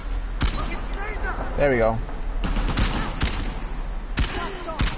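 Gunfire during a firefight in Uncharted: The Lost Legacy on PS4, played on Hard: about six sharp, loud shots spaced irregularly over a busy game soundscape, with someone talking over them.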